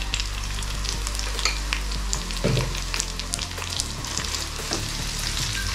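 Curry leaves and Kashmiri chili powder fry in hot oil during home lunch cooking, giving a steady close sizzle broken by scattered crackles and the scrape of stirring, with no talking.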